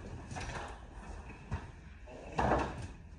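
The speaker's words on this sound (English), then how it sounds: "I got to open this door." Door opening in a home, a few soft knocks and a brief louder clunk of the latch and swing, faint and close with no voices.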